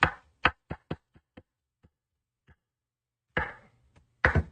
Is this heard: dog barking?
no